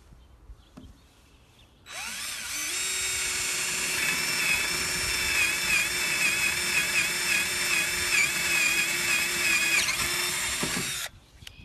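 A Black & Decker 20V Max cordless drill bores with a half-inch bit, spinning up loudly and holding a steady, close whine for about nine seconds before stopping abruptly.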